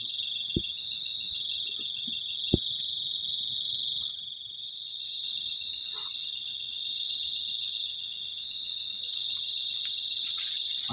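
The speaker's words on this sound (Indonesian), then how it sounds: "ketika malam suara jangkrik itu kenceng banget" Crickets chirp at night at a campsite in a dense, continuous high-pitched chorus that holds steady throughout, with a couple of sharp clicks early on.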